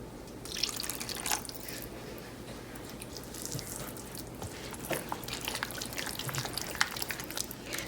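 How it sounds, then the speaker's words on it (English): Water trickles and drips into a thick idli batter seasoned with tadka and salt, a steady light splashing and dribbling close by with no talk. "the batter is thick, so I'm gonna add some water in here"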